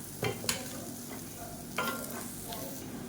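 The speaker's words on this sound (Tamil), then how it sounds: "அந்த பொடியை சேர்த்துக்கலாம் சேர்த்துட்டு நல்லா கலந்து விட்டுக்கலாம்" A spoon scrapes and stirs spice powder and turmeric through food sizzling in a pan, quiet crackling frying with a few sharper clinks and scrapes.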